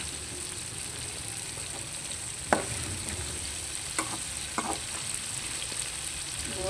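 Okra (bhindi) fries in a pan for a bhindi sabzi, giving a constant close sizzle of oil broken by several sharp clicks of a spatula stirring against the pan.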